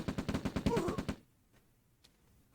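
Rifle gunfire from infantry riflemen in the real-time strategy game Red Alert (OpenRA): a quick burst of rapid, evenly spaced shots for about a second, then near silence with one faint later pop.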